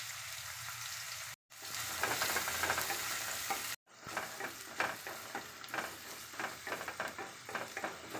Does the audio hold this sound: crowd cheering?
no